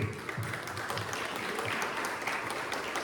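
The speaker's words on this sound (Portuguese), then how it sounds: "que as palmas louvem ao Senhor" A church congregation claps in praise at an evening service, a steady, distant wash of many hands applauding at low volume throughout.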